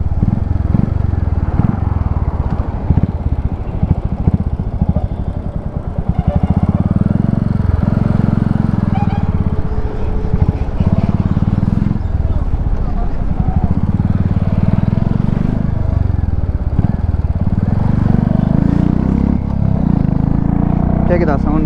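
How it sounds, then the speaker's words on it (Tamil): A Royal Enfield Bullet 350 fitted with a Red Rooster exhaust rumbles continuously on a ride, its deep thumping note swelling and easing with the throttle, loud and close over wind buffeting. "கண்டிப்பாக ட்ரை பண்ண வேண்டிய ஒரு எக்ஸாஸ்ட் பார்த்தீங்கன்னா ரெட் ரோஸ்டருங்க"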